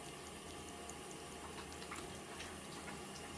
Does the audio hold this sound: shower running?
yes